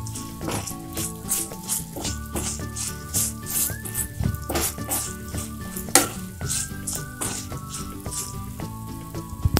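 Green chillies fry in hot oil with roasted cumin powder, garam masala, fennel leaves and fennel powder being stirred in, giving a constant close sizzle broken by repeated clinks and scrapes of a spoon against the pan, with no talk.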